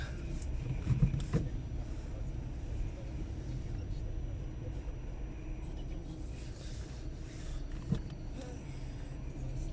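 A car drives through Karłowice in Wrocław on a rainy afternoon, giving a steady low road rumble with faint tyre hiss and a few brief knocks, heard from inside the car.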